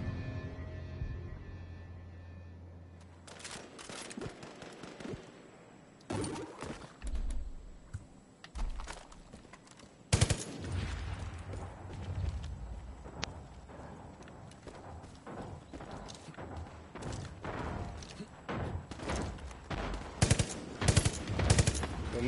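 Video game gunfire in Far Cry 5 comes as bursts of rapid shots with recoil, starting after a quiet stretch and then repeating in uneven volleys, moderately loud and with no clear talking.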